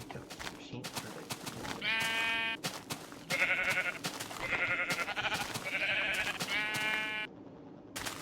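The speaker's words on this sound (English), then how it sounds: "I need to go to some sheep for this." Several sheep in Minecraft Beta 1.7.3 give repeated synthetic bleats, each about half a second long, coming in a quick series over a faint background hum.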